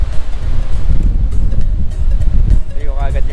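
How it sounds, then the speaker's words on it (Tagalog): Wind sweeps across the lookout at Three Sisters in the Blue Mountains, New South Wales, Australia, buffeting the microphone with a loud, low, steady roar throughout. "Masarap yung hangin."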